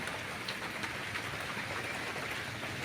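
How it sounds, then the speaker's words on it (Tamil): Steady gentle drizzle falls over trees and a sheet-metal roof, a continuous soft hiss of fine rain pattering evenly throughout with no voices. "பாருங்கள் மழைச்சொலி"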